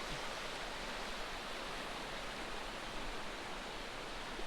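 Stream water rushes beneath a motorcycle crossing in the Cherokee National Forest, a steady, broad hiss of flowing water holding even and fairly quiet throughout, with no speech.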